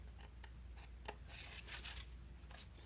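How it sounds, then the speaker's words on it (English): Scissors snip through a printed papercraft orange juice carton sheet, a few quiet crisp cuts and paper rustles close up, spaced irregularly. "Your first step is going to be to cut your orange carton out."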